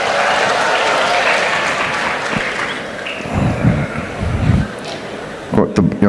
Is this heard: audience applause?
yes